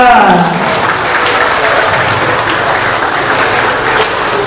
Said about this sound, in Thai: ขอเสียงปรบมือเลยค่ะ